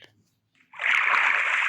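Water splashing in the Minecraft game world, a quiet moment and then a steady rushing splash that starts suddenly and keeps going loud to the end.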